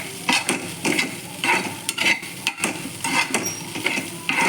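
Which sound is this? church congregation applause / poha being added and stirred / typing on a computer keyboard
poha being added and stirred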